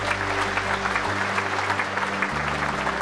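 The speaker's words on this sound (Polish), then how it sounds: "Wielkie brawa." Steady applause from a crowd at a 70th-anniversary ceremony of the Military Automotive Works fills the whole stretch, with a low sustained musical tone running underneath.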